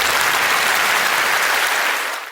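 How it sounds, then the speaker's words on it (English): A live audience claps in steady, dense applause for a caterer's executive chef, loud and continuous for about two seconds before tapering off slightly at the end. "Just clap it up for my baby right quick."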